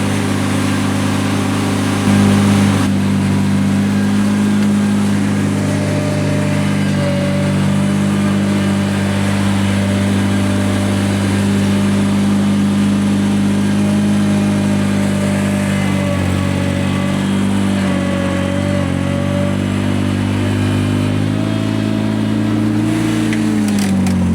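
A Ventrac compact tractor's engine holds a steady, loud, even idle near 2,000 RPM while warming up on a cold day, a continuous close drone with no talk over it.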